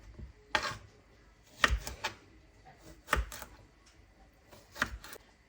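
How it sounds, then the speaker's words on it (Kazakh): Knife chopping cucumber on a cutting board: a few sharp, separate thuds spaced about a second apart, close and clear over a quiet kitchen. "Мінекей осылай турап шығамыз"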